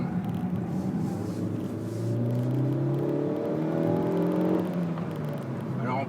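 A Suzuki Swift Sport's small 1.6-litre engine revs up through rising gears, its tone climbing in clear sweeps, heard from inside the car at moderate level.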